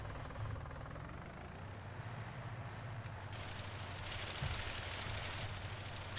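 A tractor engine in the farming game Farming Simulator 19 drones steadily at a low, quiet level, an even mechanical hum with no talk over it.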